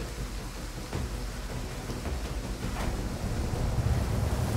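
Thunderstorm rain on a campaign map in Total War: Pharaoh, a dense continuous wash of rain and wind that gradually swells louder, with a few sharp crackles breaking through and no voices.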